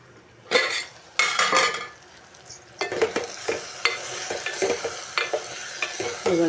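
A utensil stirs okra and tomatoes frying in a pan, with repeated scraping clinks of metal against the pan over a steady sizzle, close and fairly loud.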